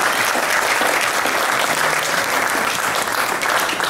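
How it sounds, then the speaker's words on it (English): Audience at a seniors' Christmas tea in Yellowknife applauds a sponsor, Northwest Tel, with steady, dense clapping from a crowd filling the room, loud and continuous throughout with no voices rising above it. "maybe if I could ask for a round of applause for Northwest Tell"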